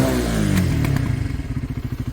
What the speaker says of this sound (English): That nice little pop out the back.